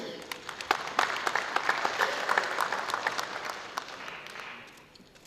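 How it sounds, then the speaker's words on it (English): Audience applause at a public sector audit awards ceremony, many hands clapping with distinct sharp claps standing out from the crowd, moderately loud and gradually thinning toward the end. "A round of applause."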